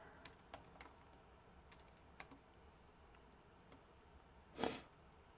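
Typing on a computer keyboard, sparse, faint clicks of individual keystrokes tapped irregularly in a quiet room, with one louder burst of keys near the end.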